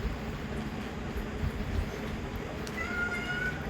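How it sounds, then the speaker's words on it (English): A cat meows faintly in the background near the end, a short wavering call over steady broadband hiss, with no talking. "It's my cat in the background."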